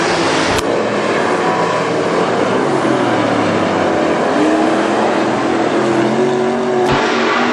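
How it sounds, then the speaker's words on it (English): WISSOTA super stock race cars racing on the dirt oval at Granite City Speedway, a loud continuous engine roar with rising and falling revs as cars pass, heard over the crowd-level din. "He's going to ride the high rails around Granite City Speedway to trial reel in your race leader, Dave Moss"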